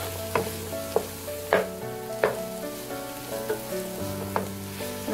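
Sliced onions sizzle steadily in hot oil while making broccoli upperi, a constant frying hiss broken by sharp scrapes and taps of stirring, close up with no talk.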